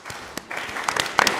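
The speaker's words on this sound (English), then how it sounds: "please give them a round of applause." Audience applause at a community event, starting sparse with a few separate claps and building into denser, louder clapping toward the end.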